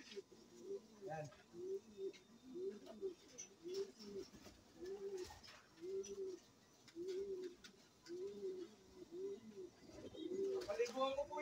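Repeated soft coos from racing pigeons in a steady rhythm, close by in a loft, with a faint background murmur throughout.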